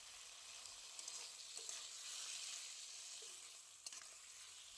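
Thin-cut potatoes fry in hot oil with spice masala, a steady broad sizzle running throughout with a few soft scrape-like stirring knocks, close and moderately quiet.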